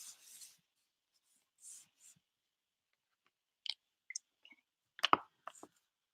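A pen or pencil scratching out a line by hand on paper, in short quiet strokes with pauses between bursts of faint rubbing and clicking.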